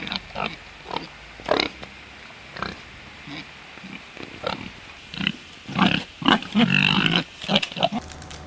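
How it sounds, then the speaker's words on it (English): A pig in Switzerland grunts and snorts intermittently, with a busier stretch of grunting toward the end over faint outdoor background noise. "A typical Swiss pig."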